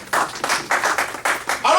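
A church congregation at a Sunday worship service claps in steady rhythmic unison in praise, about seven sharp, even claps in quick succession, followed by a voice at the end.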